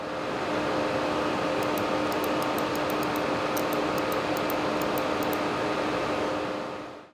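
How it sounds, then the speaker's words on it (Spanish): Fans in a cheap mini gaming PC spin at maximum speed, giving a steady, loud whooshing hum with tonal whine and a few faint high clicks partway through, fading out at the end. "Al no refrigerar bien los ventiladores, se ponen al máximo y hacen un ruido bastante molesto."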